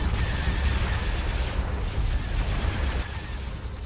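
A hypervelocity cannon fires in the Star Wars: Forces of Corruption space battle, a heavy, continuous booming roar that fills the scene with rumbling blasts and no clear voices over it.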